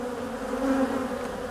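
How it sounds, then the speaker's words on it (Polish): A honeybee with deformed wings buzzing steadily and close by, a continuous droning hum without talk. "na szybce znalazłem pszczołę z deformowanymi skrzydełkami"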